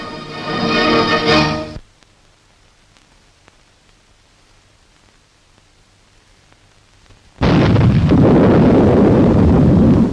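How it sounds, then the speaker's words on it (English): Anti-tank guns fire in a desert battle, a loud roaring blast cutting off abruptly, then a long quiet stretch of faint hiss before another heavy, sustained roar bursts back in. "There go the anti-tank guns"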